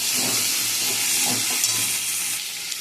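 Large pieces of onion and potato fry in a pan, making a loud, even sizzle and hiss throughout, with faint stirring scrapes and the sizzle easing slightly at the end.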